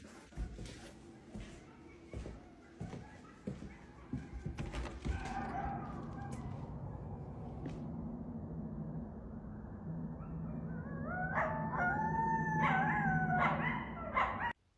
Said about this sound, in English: the pack of coyotes that I heard running through our yard